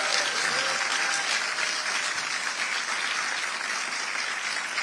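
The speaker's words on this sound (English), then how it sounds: "Let's give them all a round of applause" Audience at a New York governor's public event gives a round of applause, a dense, steady wash of many hands clapping throughout.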